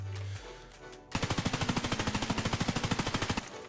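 An M4A1 rifle in Escape From Tarkov fires full auto as one long, evenly paced burst of roughly thirty rapid shots lasting over two seconds, loud and close, after a brief quieter lead-in.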